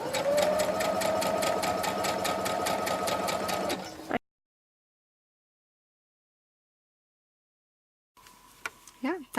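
Sewing machine stitching an infinity scarf, loud rapid regular needle clatter for about four seconds, then silence, then quiet handling sounds and brief voice at the end.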